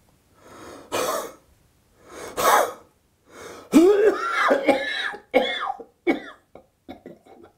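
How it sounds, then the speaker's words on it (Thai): A series of separate huffing coughs and throat clearings, each a short sharp burst with pauses between, getting quicker and choppier toward the end, done as a breathing technique for bringing up sputum. "การไอแบบกระแอม จะเฮ็ดด้วยการหายใจ แบบไวๆและกระแอมพร้อม"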